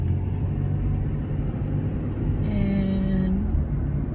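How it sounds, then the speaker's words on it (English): Steady low engine rumble inside a moving car, constant and close with road drone throughout, a brief tonal whine rising partway through. "now I'm driving in my car"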